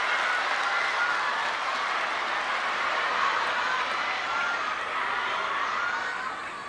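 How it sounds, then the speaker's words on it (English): A raucous crowd at a table tennis match, a World Cup semi-final in Macao, roars with continuous applause and cheering, dense and steady throughout. "And listen to this raucous crowd."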